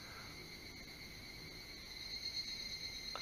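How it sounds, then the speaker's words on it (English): Insects chirr in a steady, thin, high-pitched drone at dawn in the Kobe mountains of Japan, faint and distant, with no voices. "All the insects waking up."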